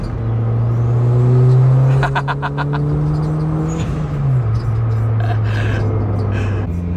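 A turbocharged Honda Brio accelerates hard, its engine tone climbing steadily and loud in the cabin before an upshift, then pulling again at a lower pitch, with no talk.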